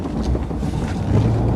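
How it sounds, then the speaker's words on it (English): Strong wind whips across an open field during snow plowing, a steady, loud, low roar buffeting the microphone without letup. "And this wind is blowing right now."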